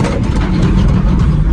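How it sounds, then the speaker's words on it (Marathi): An Ashok Leyland tempo truck's diesel engine runs with a steady, close, low rumble throughout, with no talking. "त्याचा टेम्पो घेऊन चाललो. अशोक लायलंडचा आहे."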